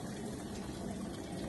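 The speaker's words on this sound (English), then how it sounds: "Our water has boiled, and then we're just going to pour it in there." Just-boiled water poured from a cooker pot into a pan, a steady close splashing and gushing stream that runs evenly with no talk over it.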